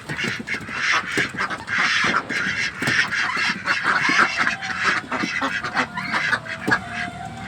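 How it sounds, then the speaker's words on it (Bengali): A flock of Khaki Campbell ducks on a livestock farm quacks continuously and loudly up close, many overlapping calls forming a dense, busy chorus with no talking. "হ্যাঁকি ক্যাম্বেল হাঁস।"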